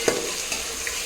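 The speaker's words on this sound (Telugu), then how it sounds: "ఫస్ట్ ఆనియన్స్ వేసేసుకొని ఈవెన్గా ఫ్రై అయ్యేటట్టు ఫ్రై చేసుకుందాం." Onions fry in a pan for vegetable biryani, a close steady sizzle with a few light clacks as a spoon stirs them, all within a second.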